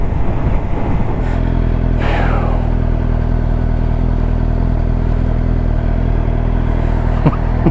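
A motorcycle cruising along roads in Wales toward Snowdon, its engine a steady, close drone mixed with constant wind rush, a brief rising whoosh early on and faint clatter near the end.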